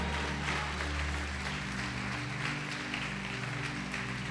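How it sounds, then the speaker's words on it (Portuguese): A church congregation at a 2022 gathering applauds, a dense, steady wash of clapping from many hands over sustained low musical tones, with no speech. "Você pode aplaudir o Senhor Jesus por isto?"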